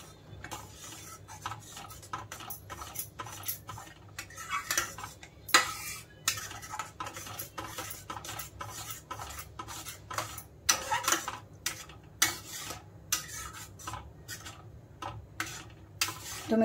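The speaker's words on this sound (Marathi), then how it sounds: "आता याला चांगलं मिक्स करूया." A spoon stirs chana palak paneer in a pan after water is added, giving repeated metallic clinks and scraping against the pan in an uneven rhythm, close and fairly quiet, with no talk.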